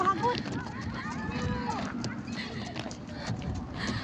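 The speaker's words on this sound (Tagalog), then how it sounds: "Siguro napapagod na yung kabayo." A horse carries a first-time rider with a steady, brisk clip-clop of hooves throughout, while people talk over it.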